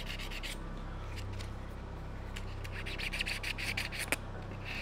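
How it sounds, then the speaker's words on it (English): A 3D printed resin head is hand-sanded with 400 grit sandpaper, close rhythmic scratchy rubbing strokes repeating steadily at low volume. "So this is a 400 grit sandpaper."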